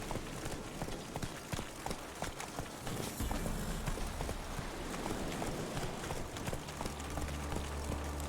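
The horse Roach gallops in The Witcher 3, its hooves keeping a fast, steady clip-clop rhythm close up and loud, with a low rumble coming up in the background partway through.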